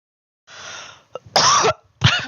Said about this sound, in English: I don't mean to cough into my microphone